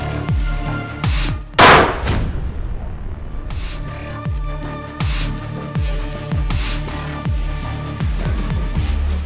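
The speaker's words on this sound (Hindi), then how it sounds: "उसने पटाखे बजाना शुरू कर दिए हैं" Firecrackers go off repeatedly in Pakistan ahead of 14 August, sharp loud bangs popping in irregular succession, with one especially powerful blast early on and echoing crackles between.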